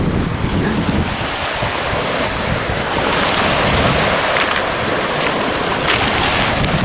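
Ocean surf washing over a dog at the water's edge, a loud continuous roar of waves and wind buffeting the microphone throughout.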